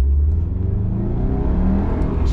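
A manual stick-shift car with short gears accelerates, its engine note rising steadily and loud from close by, with no talk over it.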